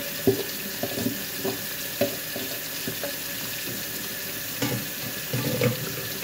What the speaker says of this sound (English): And now I gotta rinse them all off.